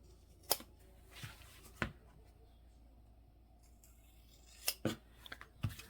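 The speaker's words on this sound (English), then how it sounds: "I'm gonna cut the ears here." Scissors snipping notches and small ears into fabric for a bag, a handful of sharp, isolated clips spaced irregularly across a quiet room, close and moderately loud.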